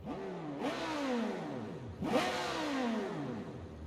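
A Civetta Scintilla in BeamNG.drive revs its engine twice in quick succession, each loud close burst sweeping up in pitch and sliding back down, with no voices over it.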